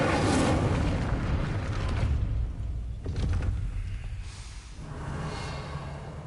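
An Incendio fire spell is cast in Hogwarts Legacy, a loud whooshing burst of flame that roars at the start, then fades into rumbling crackle with softer surges later.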